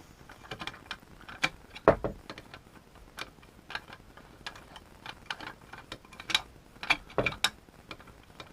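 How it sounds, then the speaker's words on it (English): The grip of a GHK Romanian AK74 airsoft rifle being unscrewed, giving quiet close ratcheting clicks and small mechanical ticks in an irregular rhythm, with a few sharper knocks of handling. "go ahead and just unscrew the grip"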